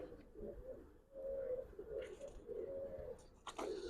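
Soft, low coos of Giribaz pigeons repeat in a slow rolling series, close by, in a loft, with faint rustling and a brief higher sound near the end.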